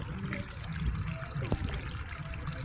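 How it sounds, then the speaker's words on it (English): Water runs steadily over rocks in a small accidental waterfall in a clean natural stream, a constant close trickling rush with no talking. "the water flowing"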